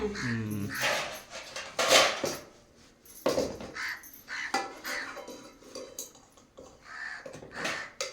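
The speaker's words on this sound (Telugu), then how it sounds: "కాకి ఇంటికి అలా కరిచేస్తుంది, పొద్దున్న నుంచి అలా కరిచేస్తుంది." A crow caws repeatedly nearby in loud, harsh bursts, with other faint background sounds between the calls.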